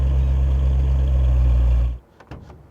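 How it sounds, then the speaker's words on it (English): A 1977 Mercedes-Benz 450SLC V8 idles with a deep, steady exhaust rumble for two seconds, then cuts off abruptly, leaving faint scattered knocks. "Beautiful sound from that V8 exhaust."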